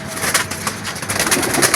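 Pigeons kept by a pigeon fancier coo in a steady, soft, rolling rhythm, fairly close and continuous over a hissy outdoor background with no talking.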